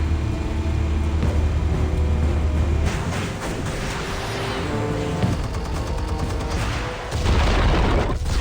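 Explosions in the Batman Telltale Series game: a deep rumbling boom with a rolling low-end roar and crackling debris, followed by a second heavy blast near the end.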